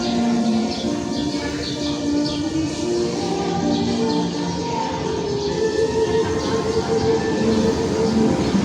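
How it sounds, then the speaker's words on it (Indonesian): The Joglo Semarkarta passenger train rolls into Kroya station on track 4 with rumbling wheels and squealing, screeching tones, steady and fairly loud, with faint bird chirps in the background. "KA Joglo Semarkarta tujuan Yogyakarta masuk jalur 4 stasiun Kroya."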